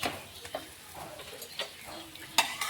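A sweet potato holige cooks on a hot griddle with a faint, close sizzle, broken by soft scrapes and light taps of a spatula as it is turned, ending in one sharper clack.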